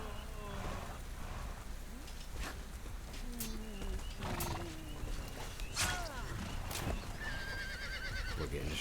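Horse neighs and hoofbeats from a War of the Roses medieval combat game, with whinny-like tonal calls over a dense, steady din of battle noise and clopping, mid-distance, with faint voices in the mix.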